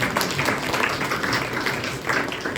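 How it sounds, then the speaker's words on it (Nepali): Audience in a Nepali gospel church setting clapping together, a steady, moderately loud spread of applause running the whole short stretch. "उहाँको लागि ताली बजाइदिनुहोस्।"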